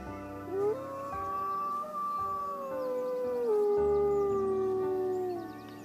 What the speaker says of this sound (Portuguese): o lobo começa a uivar